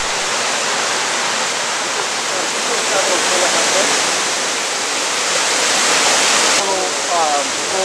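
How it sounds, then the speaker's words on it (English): Water plunges over a waterfall more than 70 feet tall on Cataract Creek on Mount Tamalpais, a loud, steady, close roar of rushing water that never lets up. "At over 70 feet, this is the tallest of the waterfalls on Cataract Creek."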